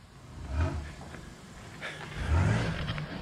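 A supercharged 3800 engine in a Monte Carlo SS revs in two low, rumbling surges, moderately loud and a little distant, with a quieter idle between them and no clear talk.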